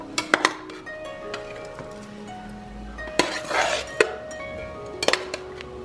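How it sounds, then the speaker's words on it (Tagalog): A spoon stirring chicken arroz caldo in a pot, with a few sharp metallic clinks against the rim and soft scraping between them, fairly quiet and without talk. "haluin po natin para make sure na hindi magdidikit yan"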